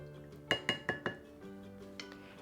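A spoon clinks four times against a dish while stirring liquid seasoned with pepper, with sharp, evenly spaced taps close by, then soft scraping and a faint final clink.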